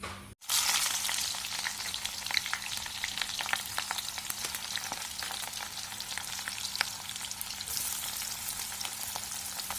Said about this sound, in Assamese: তাৰ আগতে মই পোলাও দিবৰ কাৰণে পিঁয়াজখিনি ফ্ৰাই কৰি লওঁ